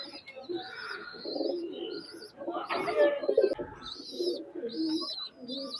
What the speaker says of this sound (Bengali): এই যে ব্রিডার কবুতর এখানে আছে